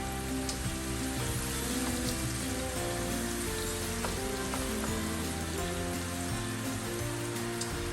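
Chicken pieces deep frying in hot oil, a steady dense sizzle and crackle with bubbling pops running continuously and fairly close, with no voices over it.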